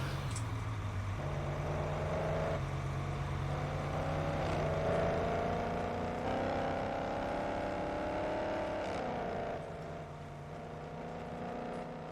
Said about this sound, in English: I love this Dodge truck, but damn is it loud.